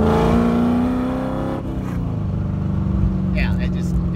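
A car engine roars under hard load, its pitch dropping with a downshift and then pulling strongly as it accelerates, loud and close throughout, with someone talking over it.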